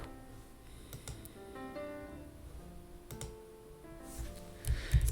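Keys clack on a computer keyboard in short irregular bursts of taps and clicks, fairly close and faint, with tonal background sounds underneath and a few heavier thumps at the end.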